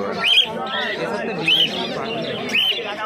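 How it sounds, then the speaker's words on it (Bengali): Finches at a pet market chirp in three short, bright calls about a second apart. Someone talks steadily over them in the busy surroundings. "এখানে প্রচুর ফিঞ্চ পাখি রয়েছে দেখতে পাচ্ছেন"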